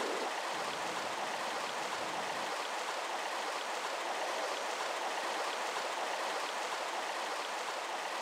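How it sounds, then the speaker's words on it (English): Steady rushing flow of water inside a tomb in the Tomb Raider video game, a continuous broadband wash like a stream or small waterfall, moderately loud and unbroken throughout. "It's a good thing to have turned on the water flow."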